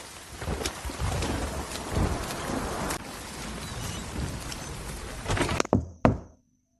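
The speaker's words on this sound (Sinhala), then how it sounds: "කවුද මන් දොරට තට්ටු කරන්නේ?" Heavy rain pours steadily on a house during a thunderstorm in a cartoon, with scattered knocks on a door sounding through the downpour and a few sharp, louder knocks just before the clip cuts to silence.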